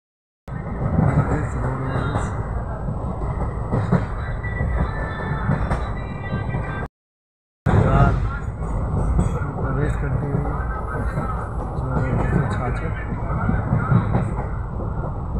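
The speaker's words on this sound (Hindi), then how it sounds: "स्टेशन छोड़ती हुई 14266 जनता एक्सप्रेस" Janata Express 14266 pulling out of a nearly empty station, a steady loud rumble of rolling coaches with a brief gap partway through.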